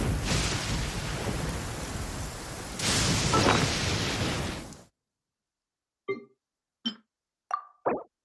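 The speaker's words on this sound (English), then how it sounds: "Thunder and lightning can be quite frightening" Thunderstorm in the game Genshin Impact: heavy rain roars for about five seconds, swelling midway with a thunder rumble, then cuts to silence before several short, separate plopping hits.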